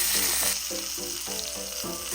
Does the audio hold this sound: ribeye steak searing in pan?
yes